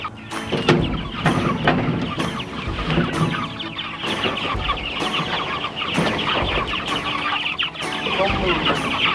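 Backyard chickens cluck and chatter continuously at close range, with sharp repeated clicks or taps cutting through at regular intervals.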